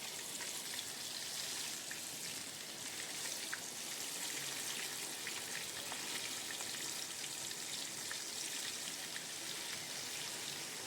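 Chicken pieces fry over medium heat in a pan for a chicken kosha, giving a steady, dense sizzle and crackle that runs unbroken throughout, with no voices.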